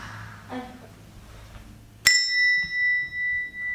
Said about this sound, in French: Il tape sur une deuxième cloche.